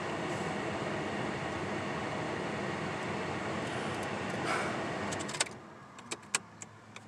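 Interior noise of a parked car with a fan running, a steady broadband rush that cuts out after about five seconds, leaving a few faint clicks and taps.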